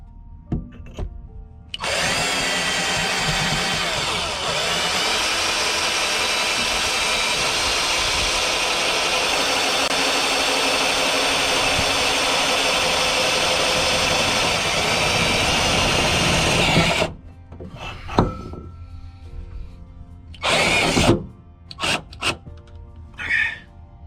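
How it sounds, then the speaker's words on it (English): A power drill bores through during a Vevor diesel heater install, a loud continuous whining grind lasting about fifteen seconds, then stopping abruptly, followed by scattered clunks and handling noises. "I'm gonna use this as a guide and put my drill through"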